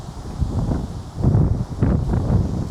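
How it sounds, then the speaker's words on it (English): Gusty wind outdoors at a house on a 0.86-acre lot in Monrovia, Maryland, a low rumbling buffet on the microphone that swells and eases in waves, with no talking over it. "Yeah, it's really windy today."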